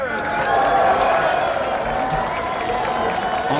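A wrestling arena crowd roars and cheers steadily with applause mixed in, a loud, dense wash of many voices sustained throughout, swelling slightly near the start.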